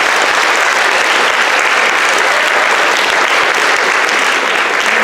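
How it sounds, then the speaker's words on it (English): Sustained audience applause at a junior school prizegiving, honouring the coaches, a dense steady wash of many hands clapping at full volume for the whole stretch with no talk over it. "so a big round of applause for our coaches."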